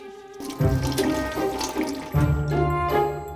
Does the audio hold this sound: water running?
yes